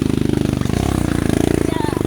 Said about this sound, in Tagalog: Ang pagtutulak ng motor.